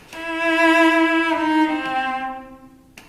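A single sustained cello note, begun with the bow resting on the string, starts cleanly and holds steady for almost three seconds before fading, played alone and fairly close.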